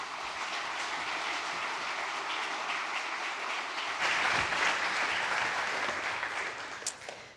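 Audience applause at a BrisScience public science lecture, a dense, steady clapping from a large crowd that holds for several seconds, then swells slightly louder before tapering off.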